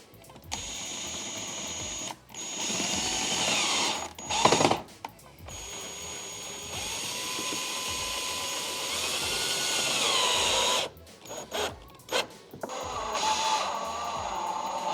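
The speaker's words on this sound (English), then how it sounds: "So I'm just going to pre-drill a hole through the fiberglass first, and then I'll screw it in from there." A cordless power drill bores a pilot hole through a fiberglass side skirt on a Subaru BRZ, with long steady whirring runs broken by short stops, trigger blips and close handling clatter.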